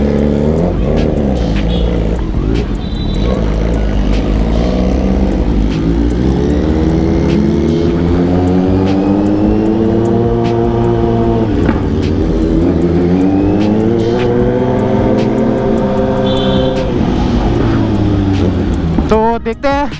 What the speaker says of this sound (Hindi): आज है ZX 10R और Xenoso।